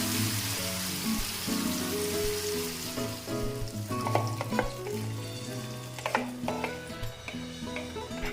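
Paste for a basic Punjabi gravy fries in a pan after roasted garlic paste, sizzling steadily while a spoon stirs it with scattered clicks and scrapes, growing busier toward the end; no voices.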